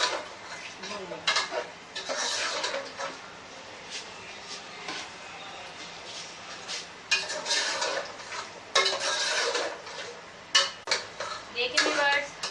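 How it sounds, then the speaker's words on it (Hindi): Masala for tripe curry is roasted and stirred in a pan, with repeated scraping and clinking of a spoon on metal in bursts over a low frying hiss. "अब हम इसे अच्छी तरह भून लेंगे"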